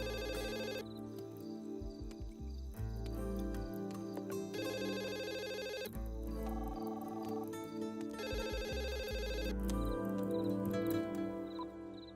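A landline telephone rings in repeated bursts, mixed with a musical score in an indoor film scene.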